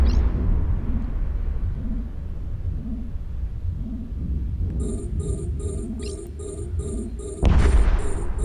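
Ships exploding in a steady stream of low rumbling booms during an EVE Echoes space battle, overlaid partway through by a repeating electronic beeping pattern and a sudden loud burst near the end.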